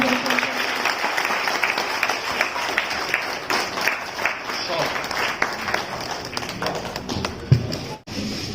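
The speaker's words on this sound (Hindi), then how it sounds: "जोरदार ताली बजाओ।" Crowd applause at a Chhattisgarhi film launch ceremony, a long run of dense clapping with some tapping and shuffling, a voice speaking partway through and a sharp knock near the end.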